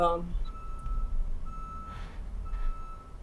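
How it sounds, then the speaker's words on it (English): A road machine working out on the street gives off steady, evenly spaced electronic reversing-style beeps. They sound at a distance beneath nearby conversation and low room rumble. "That's a machine out on the street, some kind of a road"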